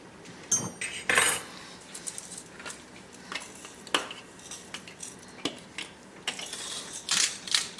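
A big fork clinks and scrapes against a bowl while beating eggs, with irregular metallic taps and rattles, close up and moderately quiet, with no talk.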